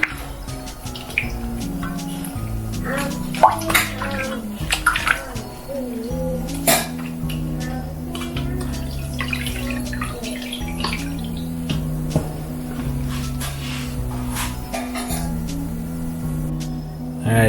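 A salted Christmas ham being rinsed under running water, with a steady tap stream, splashing and drips, and occasional knocks of a dish or pan close by.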